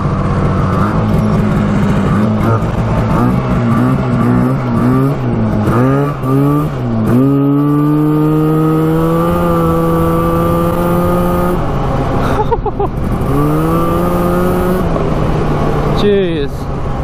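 A street-legal 340cc two-stroke trike ridden fast, its engine buzzing loudly and close with repeated rising and falling revs through the gears, droning on throughout with wind rush.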